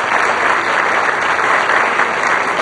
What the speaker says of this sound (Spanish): este aplauso de pie, es el reconocimiento de un pueblo